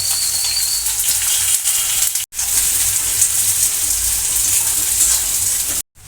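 Chopped onions fry loudly in oil with garlic and curry leaves for brinjal fry, a steady close sizzle with brief stir breaks and no talking.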